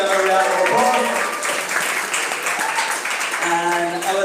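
Audience applause fills a tech meetup panel evening at PageCloud in Ottawa, a loud, dense clapping that runs steadily throughout with voices mixed in.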